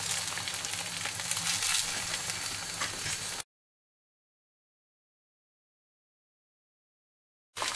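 Egg frying on bacon in a pan, a steady close sizzle for about three seconds before cutting to silence, with a brief return of sizzling at the very end.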